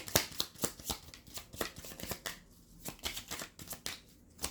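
Tarot cards are shuffled by hand in a quiet room, giving a run of crisp riffling bursts and soft slaps in an irregular rhythm, close and fairly faint.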